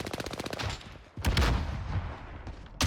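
An MG82 machine gun fires in Call of Duty: Warzone as a fast rhythmic burst, followed by two heavier, louder shot blasts close by. Nobody talks.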